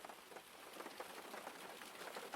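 Rain patters steadily on a tin roof over a wooden-framed shelter and onto surrounding garden plants, a dense, even hiss of countless drops with no voices.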